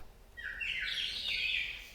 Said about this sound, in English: tuned bird whistles, believe it or not.